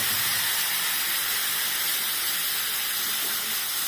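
Spice paste with fenugreek seeds and asafoetida hitting hot oil, giving a loud, steady, broad sizzling hiss that holds without a break.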